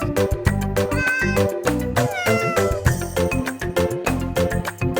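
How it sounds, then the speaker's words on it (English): A toy cat meows repeatedly in a bright electronic voice over cheerful music, several close, loud mews in quick succession. "A wonderful cat."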